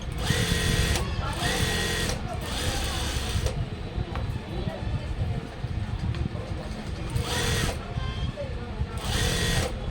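A sewing machine stitches blouse fabric, its loud, steady mechanical whir running almost continuously with brief pauses and speed changes, close and dominant.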